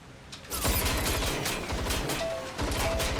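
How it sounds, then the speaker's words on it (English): Rapid bursts of gunfire in Watch Dogs Legion, a dense rattling fusillade that runs nearly continuously for three seconds with short gaps, loud and close, with no voices over it. "I'm taking fire!"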